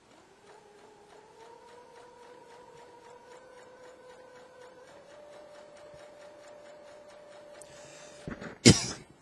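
A hand-cranked sewing machine stitches slowly around a fabric collar point, giving faint, evenly spaced ticks over a steady low hum, then a brief louder clatter near the end.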